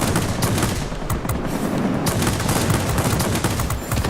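Aircraft machine guns on a Ki-162-III rattle in rapid continuous bursts during a World of Warplanes dogfight, loud and sustained over engine roar with no pauses.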